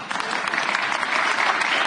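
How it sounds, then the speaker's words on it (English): Dense, steady applause from an audience at a panel discussion on Syria's future, a continuous wash of many hands clapping at moderate loudness with no speech over it. "let's have another round of applause and wish the best for Syrians"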